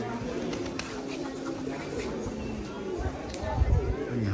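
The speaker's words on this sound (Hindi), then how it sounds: "कबूतरों का झुंड यहाँ से लेके वहां तक पूरा पेड़ देख सकते हो कितना बड़ा है।" A large flock of pigeons gathered in a tree at Manakamana Temple in Gorkha, Nepal, cooing steadily in a busy outdoor scene, with voices and crowd noise mixed throughout and a louder low rumble near the end.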